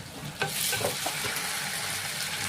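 Potatoes and onions fry in hot oil with green chili paste being added, a steady close sizzle with a few sharp stirring scrapes near the start.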